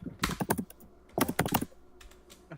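Rapid clicky keystrokes on a mechanical keyboard, close up, in two dense bursts separated by a short pause, with a few lighter taps at the end.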